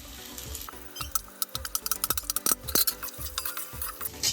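Washed flattened rice (poha) sizzles in a hot pan with capsicum and coriander while a spoon stirs it, producing a steady frying hiss punctuated by quick, rhythmic scraping taps against the pan.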